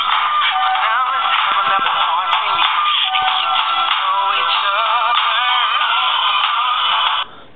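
Music plays loudly through the small speaker of a Samsung Flight 2 phone, a continuous tinny, midrange-heavy track with no voices, cutting off abruptly near the end.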